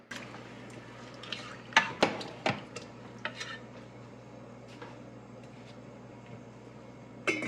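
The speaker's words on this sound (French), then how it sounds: "On s'en vient griller nos noix pendant que le riz fait son travail." Pistachios and almonds toast in butter with a cinnamon stick in a pan, where spoon clinks and scrapes stand out over a soft, steady sizzle.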